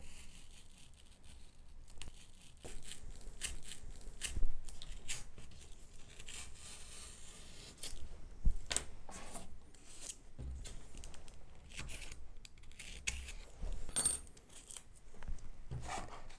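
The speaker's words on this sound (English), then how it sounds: "I'm going to use a razor blade and cut a small bevel." Razor blade shaving a small bevel into a model aircraft tail former, giving close, scattered scraping clicks and short snipping cuts at an uneven rhythm, with no talking.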